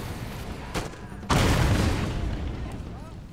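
Cannon artillery fire in the Napoleon: Total War video game: a muffled distant thud is followed by a loud, close boom that rumbles and slowly fades.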